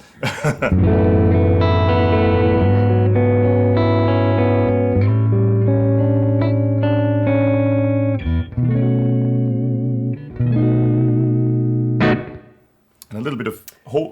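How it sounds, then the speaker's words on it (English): An electric guitar plays sustained chords through a hall reverb effect, ringing out with a spacious, lingering reverb, each note washing into the next, ending with a few scratchy strums. "like a hall reverb kind of thing?"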